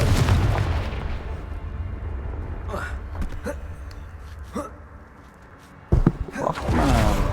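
Confringo explosive spell blasts in a video game, a sudden sharp boom near the end after several quieter thuds and pops, with a man's breathy vocal sounds mixed in.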